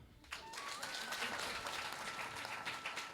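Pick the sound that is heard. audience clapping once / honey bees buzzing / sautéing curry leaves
audience clapping once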